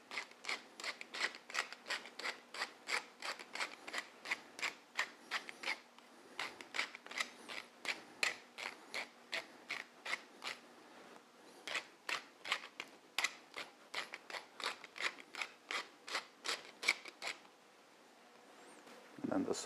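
Pepper mill grinding black pepper over a caponata, a long run of quick, rhythmic crunching twists close by, steady and moderately loud with only brief pauses.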